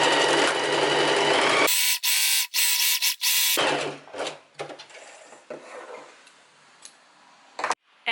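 Sewing machine stitching a seam on linen shorts, a close, steady whirring run that stops abruptly, followed by softer handling and fabric noises with a few faint clicks.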